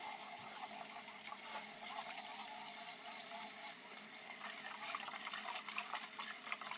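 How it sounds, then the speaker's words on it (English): Cold water runs steadily from a kitchen tap to rinse frozen shrimp, a continuous close hiss and splash with no voices. "Get some cold water, and we're gonna rinse it."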